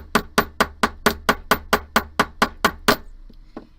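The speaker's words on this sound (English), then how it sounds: "I'm going to take my chasing hammer, I'm going to try and hit with the center of the hammer." A steel chasing hammer strikes jewelry wire on a hard surface, about a dozen sharp, evenly spaced metallic taps in quick succession, then a pause and two fainter taps, close and clear with no talking.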